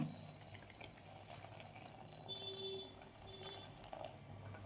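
Milk poured into a pot of cooked rice and jaggery for sweet rice, a faint steady watery trickle over low room noise, no voices.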